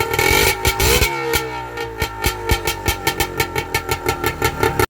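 A 2000 Polaris Trailblazer 250 fitted with an RCR pipe and no muffler revs hard and raw, then settles into a rapid, evenly spaced string of sharp exhaust pops, loud and close, with no voices.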